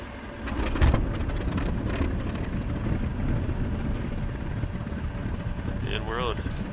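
Fw 190 A-8 piston aircraft engine in the DCS flight simulator catching and settling into a steady, loud, continuous rumbling drone with broadband roar, a brief thump near the start and a voice speaking over it toward the end.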